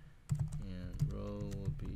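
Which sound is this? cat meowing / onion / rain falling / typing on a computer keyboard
typing on a computer keyboard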